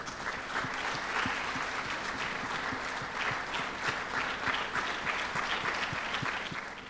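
At a Sunday church service in Pune, the congregation keeps up steady, continuous applause for a girl honoured for second place in a general knowledge quiz, a dense even clapping with some distinct nearby claps.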